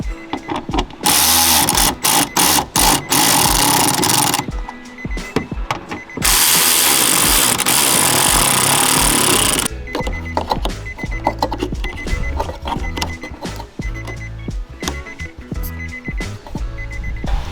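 An Infiniti G37 power window regulator motor runs in two long, loud whirring bursts separated by a short pause, followed by quieter clicking and rattling.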